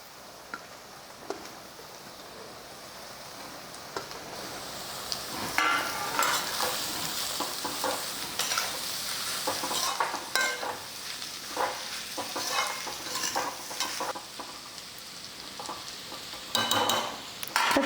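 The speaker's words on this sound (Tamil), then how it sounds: "பாவக்காய் வந்து இப்போ நல்லா வெந்துக்கிட்டு இருக்கோம்" Bitter gourd pieces, coated with salt and turmeric, sizzle and fry in a hot pan on high flame, with steady crackling broken by repeated stirring scrapes and clinks of a utensil against the pan; no voices.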